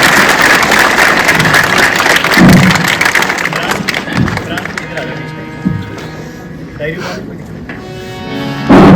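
An alumni meet crowd at a Jawahar Navodaya Vidyalaya school in Rajouri gives sustained applause to welcome senior alumni. It is a dense, loud wash of many hands clapping with occasional thumps, tapering off toward the end.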